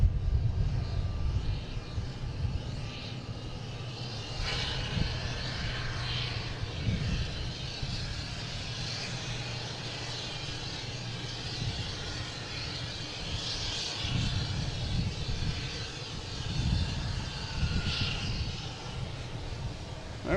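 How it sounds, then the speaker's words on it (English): A Cape Air propeller plane takes off from runway 4 Left at Boston Logan, giving a broad, steady engine roar at moderate distance with rumbling low end that persists throughout. "We had a Cape Air taking off on 4 left from Charlie, taxiway Charlie."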